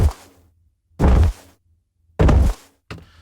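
Layered wing-flap sound effect built for a duck game, a low flap with offset higher layers, comes as three quick whooshing flaps with gaps between, then a softer fourth, loud and close with nothing else around.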